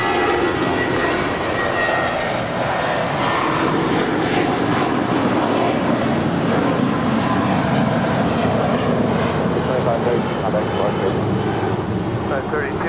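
American Airlines heavy jet taking off on runway 25 right at LAX, a steady broad engine roar holding loud throughout with a voice speaking over it.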